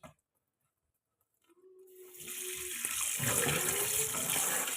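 Tap water runs steadily into a sink while raw chicken is washed and rubbed with salt, the flow starting after a brief quiet and building to a continuous rushing gush that stays loud and close.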